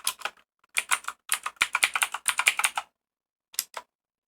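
Bursts of keystrokes clatter on a computer keyboard as a systemctl status command is typed in, close and clear, with brief pauses between runs of typing and a final short pair of taps.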